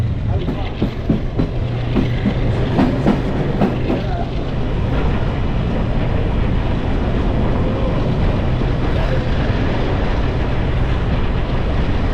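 A night train in Egypt rolls steadily along the rails near Aswan with a continuous low rumble and faint rhythmic clatter, heard from inside the carriage.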